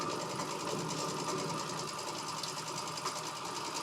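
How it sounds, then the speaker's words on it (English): A sewing machine hums steadily while stitching fabric strips together, a constant close whirr with a faint rhythmic pulse throughout, no pauses. "I am sewing up a bunch of strips right now."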